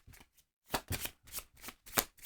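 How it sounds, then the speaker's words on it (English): Board game cards for Dragons of Etchinstone, a Chip Theory Games title, are shuffled up close in a run of quick riffling bursts with short pauses between them. The bursts get louder and crisper toward the end. "So let's shuffle all of our cards here."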